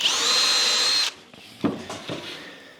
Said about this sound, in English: I'm just putting 4 countersunk holes in each one that I'm going to put on the wall